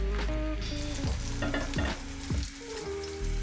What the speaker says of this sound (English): in the hot pan, in the meat juices, just toasting your bread